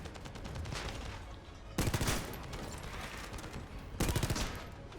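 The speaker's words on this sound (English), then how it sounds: "So right now I am using a shotgun, some machine gun, laser rifle." Shotgun, machine gun and laser rifle fire in the video game The First Descendant, a rapid continuous stream of shots with two louder heavy blasts standing out, dense and close.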